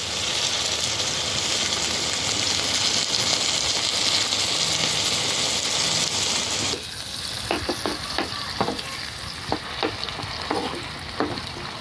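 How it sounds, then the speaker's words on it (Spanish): Salsa hits a frying egg in a hot pan: a loud, steady sizzle drops suddenly to a quieter frying hiss with scattered pops and stirring clicks. "Ya está el huevo, ahora ya le voy a agregar salsa."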